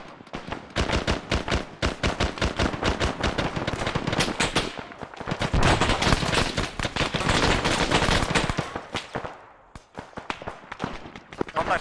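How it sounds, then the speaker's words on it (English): Gunfire in ARMA 3 during a hunt for Taliban in a town, with dense rapid machine-gun bursts and scattered shots rattling continuously at close to mid range, with a brief lull near the end. "Shots east."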